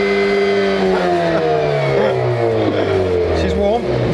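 Engine of a wide-body Hyundai i30N revving up and down in a few strong rises and falls, loud and close. People talk over it.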